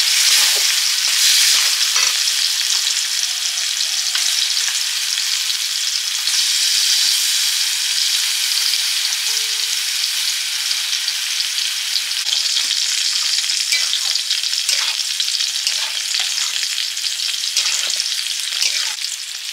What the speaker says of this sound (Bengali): মশলা কষানো হয়ে গেছে। এবারে মাংসটা দিয়ে দিচ্ছি।